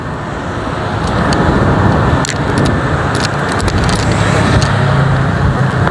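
Dense car traffic roars continuously on a busy street in Banda Aceh, Indonesia, loud and close, with engines and road noise blending into a steady wash.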